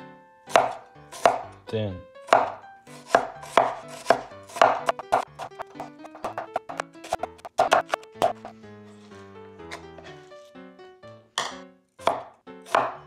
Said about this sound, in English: we're actually gonna use my new cleaver knife I got to cut these onions